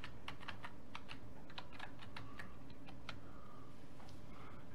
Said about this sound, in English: when you type in the password